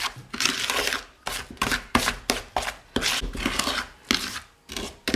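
Butter and sugar are mixed for butter cookie dough in a bowl, heard as close, repeated scraping and stirring strokes in uneven bursts with short pauses between them.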